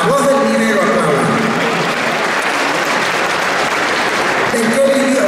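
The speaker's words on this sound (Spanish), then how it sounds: "Aplaudan, sí, a la Voz del Dinero aplaudan." Sustained audience applause fills a hall in Bolivia through the whole stretch, loud and steady, with a voice briefly audible at the start and end.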